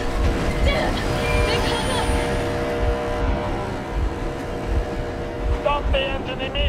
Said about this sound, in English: The engine.